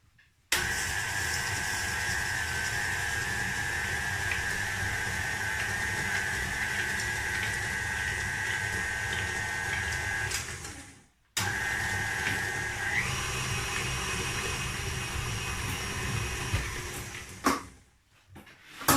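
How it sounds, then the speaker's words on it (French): A food processor runs at medium speed blending cookie dough, a loud steady whirring motor that cuts out briefly after about ten seconds, restarts, and stops again near the end. "Et on passe tout ça au robot. C'est parti. Hop. À puissance moyenne."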